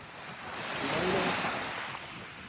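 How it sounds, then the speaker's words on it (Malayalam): Sea waves wash steadily onto a shore while a crab hunt goes on, a continuous broad rushing surge that swells and fades, with wind buffeting the microphone. "കടല് തിര ഉണ്ടാവില്ല പറഞ്ഞിട്ട് അത്യാവശ്യം തിര ഉണ്ട് അല്ലേ?"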